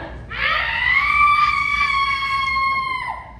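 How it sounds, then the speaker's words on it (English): A woman lets out one long, sustained high-pitched scream at a Universal Studios Hollywood special effects show, holding steady for about three seconds before breaking off. "Let's all hear how you would scream."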